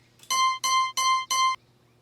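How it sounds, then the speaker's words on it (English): Objective alert from the Mortal Kombat 1 Invasions video game: four identical bright, harmonic electronic tones in a quick steady rhythm, each about a quarter second long, loud and clean with no talk. "That's the objective sound."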